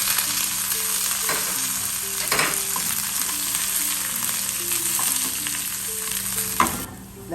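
Shallots, dried red chilies and curry leaves fry steadily in a pan for a brinjal curry, a loud continuous sizzle with occasional stirring clinks and no talk.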